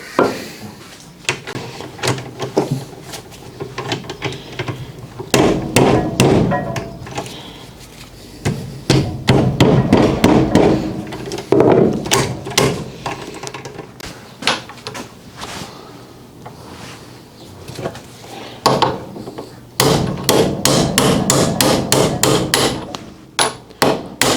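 Rapid bursts of sharp hammer blows strike in quick series while rebuilding a car driveshaft, pausing between runs, loud and close, with some clattering knocks in between.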